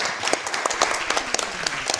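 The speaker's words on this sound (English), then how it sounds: "it's time to clap for that" Lively audience applause at a charity speedrun marathon event, a dense steady patter of many hands clapping close and loud for the whole stretch, with occasional sharper individual claps standing out.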